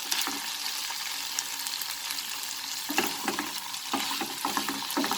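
Beetroot chicken cooking in a pan over a medium flame, a soft continuous sizzle with a few louder bursts of stirring near the end.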